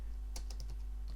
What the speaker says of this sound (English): you're going to click on there and type in Xbox